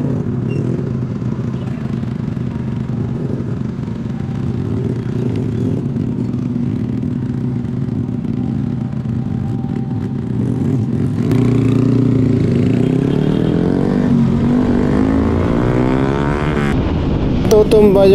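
A motorcycle engine runs steadily close by, rising in pitch as it accelerates toward the end, with a voice speaking over it.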